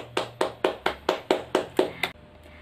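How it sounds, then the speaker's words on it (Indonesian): A class claps in unison in a school lesson, eight crisp, evenly spaced claps in a steady rhythm, close and clear, then stopping abruptly. "Beri tepuk tangan untuk kita semua."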